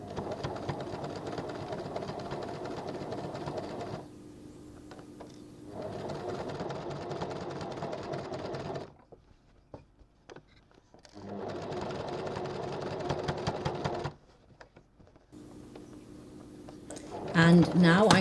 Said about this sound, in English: And then I'm going to stitch it in exactly where the fabric fold is,